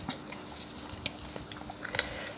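Crispy home-fried pork skin being bitten and chewed up close, with several short crunchy snaps over a quiet background.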